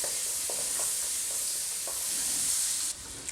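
Sweet potatoes and carrots stirred in hot oil with pimento and turmeric, a steady close sizzle with soft scraping stirs, no talk.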